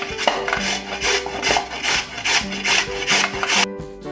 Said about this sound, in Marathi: आता किसून घेऊया।